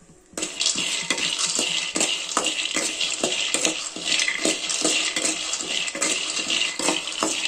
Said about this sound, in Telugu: 3 ఎండుమిరపకాయలు, శనగపప్పు, వేరుశనగపప్పు వేసుకొని ఫ్రై చేసుకోవాలి